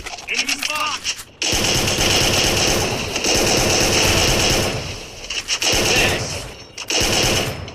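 Loud automatic gunfire from a shooter video game rattles in long, rapid sustained bursts, with a few brief gaps between volleys.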